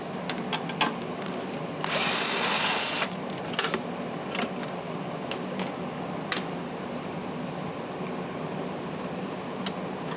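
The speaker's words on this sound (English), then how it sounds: "we can just remove the carburetor, and for that we'll need a 3/8 because there's two 3/8 bolts that are holding it on" A power tool whirs in one loud burst of about a second while removing 3/8 carburetor bolts from a Toro mower that won't start, followed by small metallic clicks and taps over a steady background hum.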